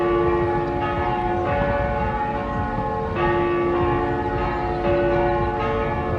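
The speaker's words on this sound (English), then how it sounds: "And there are the church bells ringing at noon." Church bells ringing at noon in Cincinnati, a steady tonal peal with strikes recurring roughly every second or so, moderately distant and heard without any talk.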